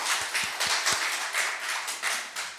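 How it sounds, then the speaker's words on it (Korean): A church congregation claps in welcome, a moderately loud, continuous patter of many hands with a few sharper, distinct claps standing out near the start. "우리 환영하면서 박수하도록 하겠습니다."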